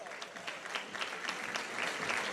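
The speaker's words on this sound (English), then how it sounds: "round of applause for not only our varsity club and our student athletes that have earned this" Applause from an audience at a high school sports awards ceremony honoring varsity student athletes, a steady dense patter of many hands clapping throughout, fairly faint and distant, with no voices over it.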